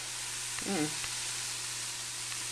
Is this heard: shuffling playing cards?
no